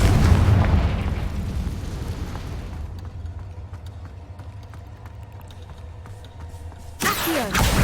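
A Confringo blasting spell goes off in a Harry Potter video game: an opening boom with a low rumble that decays into a quieter sustained roar, then a second sharp burst near the end.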